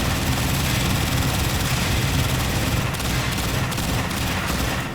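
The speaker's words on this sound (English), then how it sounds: "I can't hear the gunshots on my end from you, but I can hear them through your speakers" Heavy gunfire in the video game Warframe roars as a dense, continuous loud barrage of rapid shots with a droning mechanical undertone, with no talking.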